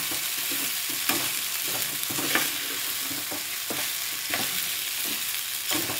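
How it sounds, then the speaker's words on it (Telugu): Rice with salt, capsicum, carrot and cabbage is stirred and fried in a pan, giving a steady close sizzle broken by repeated scraping strokes of the spatula, with no voices. "అది వేగాక ఇప్పుడు రైస్ వేస్తాను. రైస్లో కూడా కొంచెం సాల్ట్ వేసాను."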